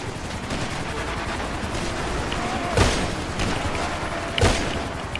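Game gunfire in GTA V on a FiveM server: a dense, continuous wash of battle noise with two sharper, louder shots standing out near the end, all fairly close.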